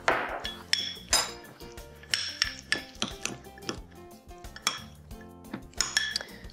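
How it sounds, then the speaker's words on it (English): Cutlery clinks and scrapes against a bowl while baked apple filling with cranberries and spice is mixed, an irregular series of close, bright metallic taps with no talking. "we're going to go ahead and mix all this together"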